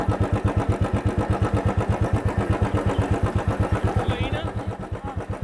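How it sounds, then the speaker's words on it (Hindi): A motorcycle engine chugs with a fast, even pulse while riding uphill toward a mountain temple near Jwala Ji in Kangra, Himachal Pradesh, loud and close, then gradually easing and fading toward the end. "पर हम बाय बाइक जा रहे हैं।"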